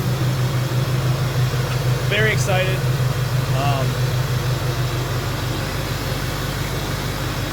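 A Duramax diesel swapped into a 1998 K1500 truck idles with a steady low rumble throughout, while a person talks briefly over it near the start.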